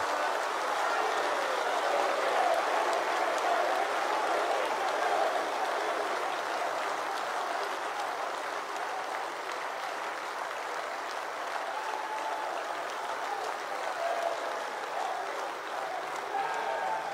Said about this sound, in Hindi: हम सब खड़े होकर प्रधानमंत्री जी के सम्मान में ढेर सारी तालियां बजाकर समग्र देश में संदेश दें।